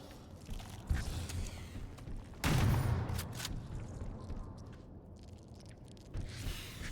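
Shotgun blasts in the video game Halo Campaign Evolved: a sharp report near one second, then a heavier, louder boom at about two and a half seconds that rings briefly, with further shots under game noise.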